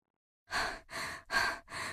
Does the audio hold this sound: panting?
yes